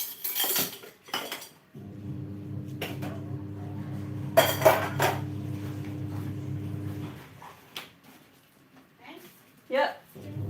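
Dishes being washed by hand during daily house cleaning, with plates and cutlery clinking and clattering in bursts over a steady running-water hiss, close up, while people talk intermittently.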